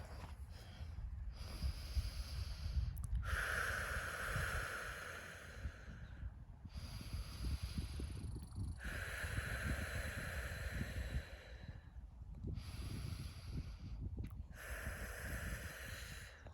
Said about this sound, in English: So maybe we should take some deep breaths.